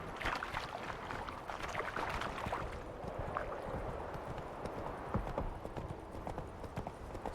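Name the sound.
horse hooves galloping in The Witcher 3 video game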